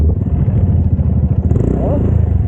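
A motorcycle engine idles and putters at close range on a steep road, a low rumbling throb with a faint high whine, people talking over it.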